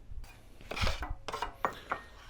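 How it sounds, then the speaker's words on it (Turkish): A knife chops tomatoes repeatedly on a cutting board with irregular, close, fairly quiet thuds and scrapes, and no one speaks. "geri kalan kısımları yine küçük küçük doğruyoruz"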